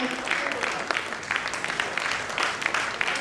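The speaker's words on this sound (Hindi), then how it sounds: "जोरदार तालियां।" A dense, continuous wash of audience applause fills an Indian honour ceremony as a woman is garlanded and draped with a shawl. The clapping stays steady and close throughout with no voices over it.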